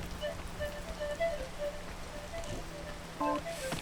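Rain falling in the video game PEAK, a steady wash of drops pattering on surfaces throughout, soft and continuous, with scattered game tones and small clicks over it.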